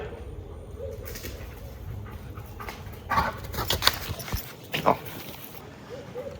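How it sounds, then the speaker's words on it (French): An excited, stubborn dog pants and whimpers close by, with louder yelps and scuffling bursts toward the end over a low background hum. "Le chien le plus têtu de la terre."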